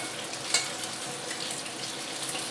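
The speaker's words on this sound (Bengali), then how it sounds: "পকোড়াগুলো ভাজা হয়ে গেছে" Pakoras frying in hot oil make a dense, even sizzle throughout, close and fairly quiet, with one brief clink near the start and no talking.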